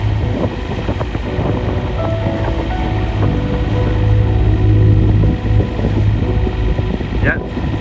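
Strong wind roars steadily while sailing through a wind channel off Croatia, mixed with boat and water noise, building slightly toward the middle before easing; voices talk over it.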